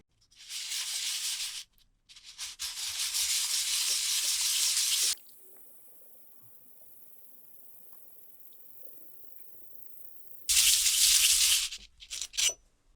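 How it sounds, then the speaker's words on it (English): A wood plane blade is rubbed on 120 grit emery paper, loud close abrasive hissing strokes in long bursts with a quiet pause between them. "I'm going to start off with some 120 grit emery paper."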